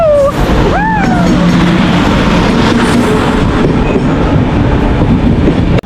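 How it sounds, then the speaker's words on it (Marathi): A passenger train pulls into a station on the Kudal to Murudeshwar route, a loud steady rumble of rolling cars with clattering wheels and brief high squeals near the start. No one speaks, and the din holds almost to the end. "आता आमची ट्रेन आली आहे"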